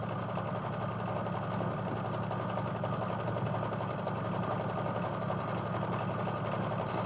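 A sewing machine runs fast and continuously, a dense, even mechanical whir with a rapid regular ticking beat, close and steady with no pauses.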